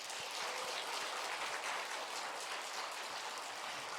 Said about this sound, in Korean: 이 남전도회를 향해서 한번 격려하면서 박수 한번 쳐주면 참 좋을 것 같아요